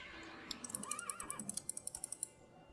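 Horse in a Minecraft Dragon Block C mod, a short whinny heard alongside a quick run of sharp clicking hits, all fairly quiet with no talking.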